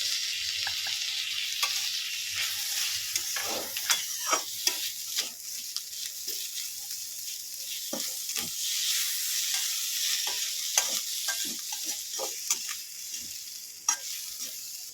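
Ginger garlic paste with dry turmeric, chilli, coriander and cumin powders sizzles in a pan, a continuous soft frying hiss broken by repeated sharp scrapes and stirring clicks of a spoon, with no voices.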